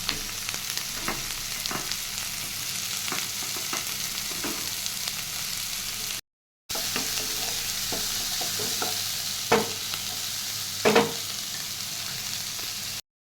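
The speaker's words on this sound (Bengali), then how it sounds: "তারপরে দিলাম টমেটো।" Tomato frying with capsicum, garlic and chopped chillies in a pan for egg chilli, a continuous close sizzle with occasional spatula scrapes and clinks, briefly cut silent midway before the frying resumes.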